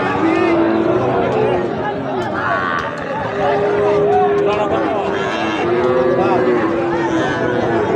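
Sahiwal bull calves and other cattle low and moo at a busy livestock market, their calls mixed with steady crowd chatter and nearby voices throughout.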